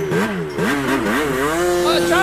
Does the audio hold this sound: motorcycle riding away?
yes